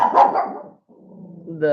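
Dogs bark in a short burst at a corner school bus stop, loud and close, followed by a brief pause and then a whining, yelping cry with voices mixed in.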